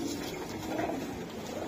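Giribaz pigeons coo faintly and steadily under a dense hum of loft noise at a pigeon seller's, with no distinct bursts standing out.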